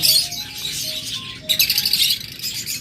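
Pet cockatiels and other caged birds in a bird shop chirp and tweet in quick bright bursts, several calls overlapping close by, with a brief lull before a louder flurry of chirps.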